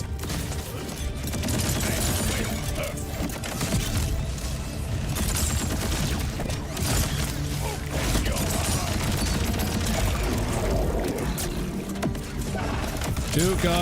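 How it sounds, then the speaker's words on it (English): Rapid, continuous gunfire from a charging weapon in Borderlands 4 during a boss fight, sustained and loud for the whole stretch with game effects layered underneath. "Come on, gun, shoot. I need you to shoot faster."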